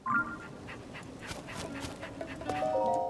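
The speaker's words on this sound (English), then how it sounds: "Oh, there's another dog." A dog in the video game Zelda: Tears of the Kingdom, at a snowy mountain stable, gives short barks and pants over steady game ambience and faint musical tones.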